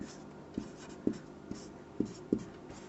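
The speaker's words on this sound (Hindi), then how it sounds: "इसमें हम लोग सबसे पहले लिखेंगे" Pen writing out a mensuration math solution for a square, quiet scratchy strokes with several distinct taps in an irregular rhythm, close and faint.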